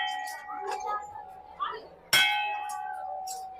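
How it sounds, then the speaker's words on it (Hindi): A metal temple bell at the Hinglaj Mata temple in Balochistan, Pakistan, is struck once, ringing loud and close with a long shimmering decay, over a lingering tone and faint voices in the background. "सबसे पहले तो घंटी फ्रेंड देख लें।"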